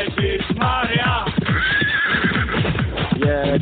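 A horse whinnies over a steady, rhythmic clip-clop of hooves during a child's horse ride, sounding close and somewhat muffled.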